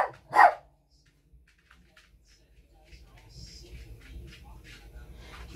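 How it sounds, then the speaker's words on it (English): A dog barks loudly in one short burst near the start, somewhere in the background of a kitchen while lunch is being made, followed by low household noise. "the dog's going off now in the background"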